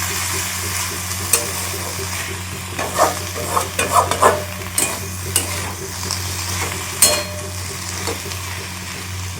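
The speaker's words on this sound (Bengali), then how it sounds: "তো এর মধ্যে যেটা আদা রসুনের পেস্ট দিয়ে দিয়েছি চলো এবার ভালো করে কষাতে থাকছি" A ginger-garlic spice paste sizzles steadily in a hot pan while a spoon scrapes and stirs with irregular clicks and knocks. No one speaks.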